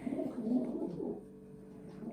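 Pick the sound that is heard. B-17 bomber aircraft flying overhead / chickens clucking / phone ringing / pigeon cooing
pigeon cooing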